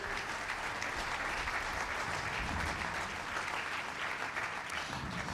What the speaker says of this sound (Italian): E quindi un applauso anche a lui.